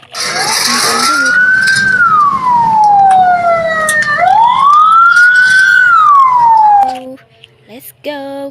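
A toy fire truck's electronic siren wails loud and close in two long rising-and-falling sweeps, then cuts off abruptly, followed by a few short clicks and beeps.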